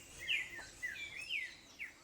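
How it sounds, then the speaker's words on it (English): A southern house wren sings faintly in Colombian highland forest at La Florida, Valle del Cauca, giving a few quick, high chirping phrases spaced across two seconds. "Southern house wren is found throughout South America."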